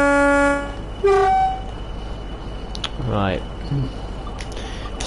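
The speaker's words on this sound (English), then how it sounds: "I can hear a class 40 over there, two of them." Class 40 diesel locomotives in the video game Train Sim World, heard as a loud multi-tone horn blast followed by a shorter toot, then a rising engine whine and rumble over steady low noise.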